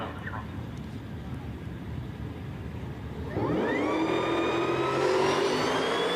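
A supercharged Australian-made Pontiac G8 drag racing at a street racing event, with a low engine rumble that builds into a loud, rising whine as the car accelerates away. A voice speaks over it.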